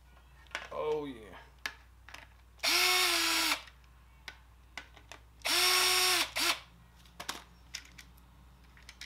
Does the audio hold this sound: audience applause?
no